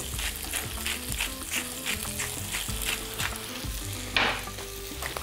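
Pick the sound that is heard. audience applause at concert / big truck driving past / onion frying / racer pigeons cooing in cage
onion frying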